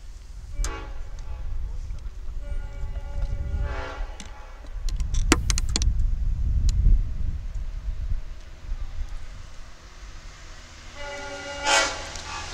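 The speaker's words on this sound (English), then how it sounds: "We get one last feature from the train in this game" Train passing near a high school baseball field during a game, its horn blowing in several long blasts over the rumble of rail cars, fairly close and loud, with crowd noise and talk underneath.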